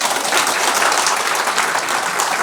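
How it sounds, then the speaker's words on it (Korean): Audience in a political lecture hall in Daegu breaks into steady, dense clapping, loud and continuous throughout with no voices over it. "한번 박수 한번."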